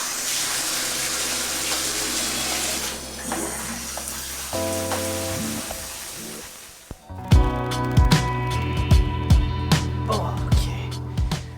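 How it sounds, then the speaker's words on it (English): Running water pours and splashes steadily in a home shower, starting as a smooth rush and then turning busier, with irregular knocks and splatters breaking through the flow. "And that is to go take a shower."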